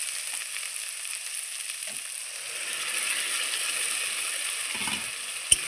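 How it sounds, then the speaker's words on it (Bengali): Onions fry with ground spice paste for tengra fish, a steady close hiss and sizzle of hot oil with a couple of faint stirring knocks and a sharp click near the end. "এইবারও আমি খুব সুন্দর করে আবারও কষিয়ে নেব"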